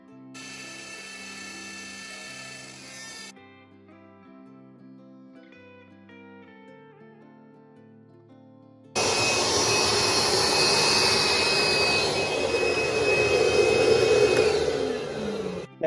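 A CNC machine moves with stepped whirring and ratcheting tones, then the cutter starts with a loud, steady roaring whine as it cuts a Dallas Cowboys house number sign, continuing close and unbroken.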